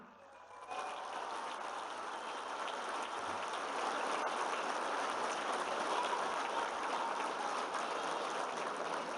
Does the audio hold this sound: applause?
yes